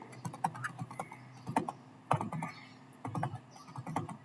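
Fingers tap on a computer keyboard while text is entered into an Excel spreadsheet, a close run of clicky keystrokes in uneven bursts with short pauses between.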